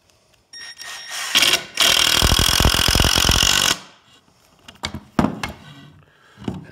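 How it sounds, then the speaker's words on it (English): A driver runs a long screw into the end grain of plywood through a pre-drilled hole, making one loud, sustained whirring burst of about two seconds, with quieter handling clicks and knocks before and after. "Sometimes the plywood will have a tendency to pull, push apart when you run a screw into the end grain like that."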